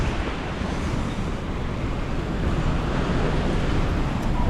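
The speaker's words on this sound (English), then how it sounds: "So can you see how it's raining?" Heavy rain falls on a Vancouver street, a dense, continuous hiss of steady, fairly loud broadband noise without pauses.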